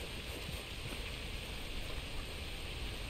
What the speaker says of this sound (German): Aber es ist Regen.